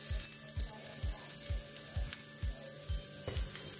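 Portobello mushrooms seasoned with salt and pepper cooking in a frying pan, a soft steady sizzle with a regular low thumping pulse about twice a second throughout, heard close with no talking.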